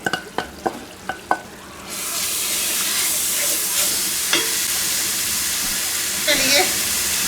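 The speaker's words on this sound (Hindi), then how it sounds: "अब इस मसाले को थोड़ा सा हमने भूनना है।" Ginger-garlic masala fries in hot olive oil in a large biryani pot, starting with a few sharp spoon clanks before a loud, steady sizzle and hiss takes over with occasional stirring scrapes.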